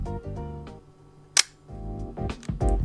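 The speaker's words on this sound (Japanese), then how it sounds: "巻き上げてシャッターを切ります。" A Leica M6 film camera fires its shutter at 1/1000 second after being wound on, giving one crisp, close mechanical click partway through, heard over soft background music.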